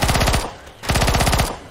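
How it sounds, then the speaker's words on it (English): Rapid automatic gunfire from Left 4 Dead 2 rattles in two loud close bursts separated by a short pause, with no talking over it. "Can we stop shooting each other?"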